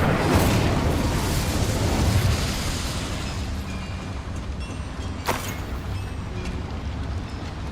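An Incendio fire spell cast in Hogwarts Legacy, a loud rushing whoosh of flame that roars at the start, then fades into a steady crackling burn with one sharp burst near the middle.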